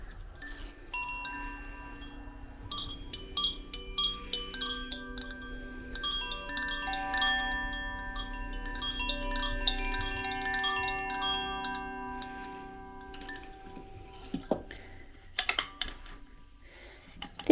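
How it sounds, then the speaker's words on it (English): A Koshi chime tuned to the fire element is rung, giving a cluster of bright shimmering metallic tones that ring and overlap for several seconds, with a few sharper clinks near the end. "So this chime right here is the fire element, and it sounds like this."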